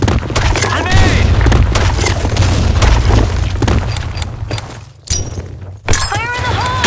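A grenade blast in the shooter game Blackshot on the Sand Storm map: loud, dense rumbling booms and crackling noise fill the scene, briefly dropping away before surging again, with voices shouting over it.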